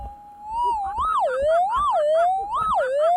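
Metal detector tone heard through headphones while gold detecting near high water, a loud continuous electronic whine that warbles up and down in pitch in repeated swoops.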